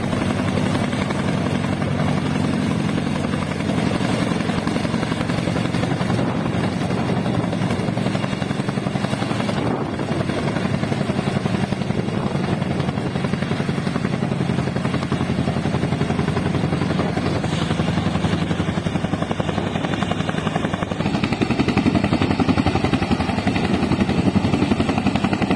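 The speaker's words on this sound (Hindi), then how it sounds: "ये जो हेलीकॉप्टर है ना, ये कुछ सामान पहुंचा रहा है बाबा के धाम पे।" A helicopter carrying supplies to a hilltop shrine drones steadily and loudly throughout, its rotor thrum constant and close, with no speech.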